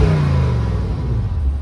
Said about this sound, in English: Here's a couple revs on the M550i.